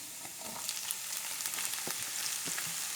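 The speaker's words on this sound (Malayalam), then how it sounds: "ഇതിലേക്ക് നമുക്ക് ഒരു മീഡിയം സൈസ് സവാള ചെറുതായിട്ട് അരിഞ്ഞു വെച്ചതാണ് ആഡ് ചെയ്ത് കൊടുക്കാം." A finely chopped medium onion goes into frying ginger and garlic for a fish roe fry. A faint, steady sizzle comes with a few light stirring clicks, and no one speaks.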